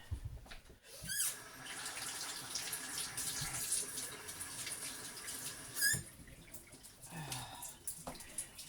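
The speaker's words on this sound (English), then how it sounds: "So we're gonna wash them up" Fresh tomatoes being washed under a running kitchen tap, water splashing steadily into a sink with occasional squeaks and handling noises, close and fairly quiet, with brief breaks in the flow.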